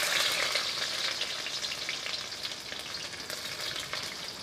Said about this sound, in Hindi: लहसुन को हम लाल कर लेंगे अच्छे से तेल में